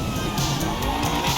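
A fast supercar in GTA 5, spawned with a cheat code, drives with a steady engine drone and some tyre noise, continuous and fairly close throughout.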